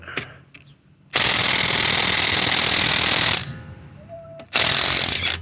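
A cordless impact wrench running at speed 4 tries to loosen a fastener. It gives a long, loud, continuous hammering burst, then a pause, then a second burst begins. It is heard up close and on its own.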